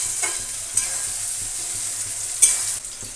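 Chopped tomatoes are stir-fried in a pan with a bright steady sizzle and a few sharp scraping strokes of a spatula, heard up close without any voices.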